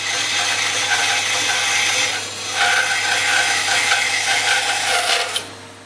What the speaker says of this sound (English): So I'll get on the bandsaw and do that.